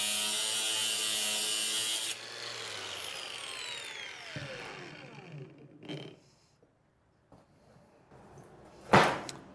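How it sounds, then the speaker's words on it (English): A sheet metal floor panel for a Ford F150 is notched, with steady close cutting for about two seconds, then scraping and ringing metal. A few sharp clanks follow, ending with a loud bang. "So I'm gonna go ahead and notch the panel out here"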